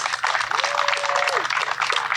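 Steady applause from a crowd at an outdoor trail ribbon-cutting fills the whole stretch, dense and continuous, with a faint whistle-like tone rising and falling briefly partway through.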